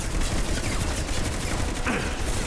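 Gunfire from a firefight in the Mass Effect 2 video game, a dense, continuous burst of rapid shots and clatter that holds steady throughout with no talk.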